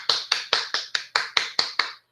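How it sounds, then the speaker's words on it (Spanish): Eight crisp, evenly spaced claps ring out from a single pair of hands at a conference, a close, steady rhythm that stops abruptly. "un aplauso"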